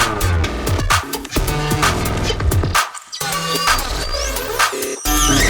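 Pigments software synth patch run through reverb, OTT compression, distortion and hard clipping, a dense gritty sequence of shifting tones and sweeping squeals with abrupt short dropouts, loud and continuous.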